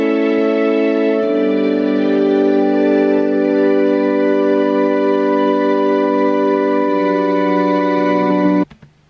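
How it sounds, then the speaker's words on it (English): Three layered synthesizer pads with string tremolo and high glass sounds hold steady with bright, glassy overtones, shifting pitch once early on, then cutting off abruptly near the end. "it's actually three different pads at the same time."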